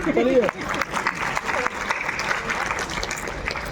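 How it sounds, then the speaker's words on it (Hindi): An audience at a Hindi poetry gathering in Basti claps steadily through the moment, while a voice rises briefly at the start and keeps speaking over the applause. "दो चार लोग हमारी आत्मा शांति के लिए तालियां बजाओ"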